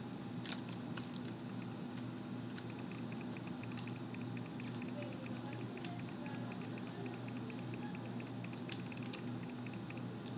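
Rapid, steady mouse clicking while playing a lifting simulator game, a dense stream of small ticks close by over a low background hum, with no talking.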